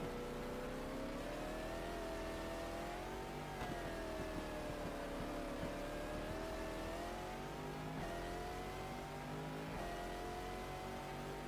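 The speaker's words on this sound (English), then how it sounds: "There goes a Porsche." Porsche race car engine in a racing video game at the 2000 12 Hours of Sebring, a loud, steady high-revving drone whose pitch rises and falls throughout, with no talking.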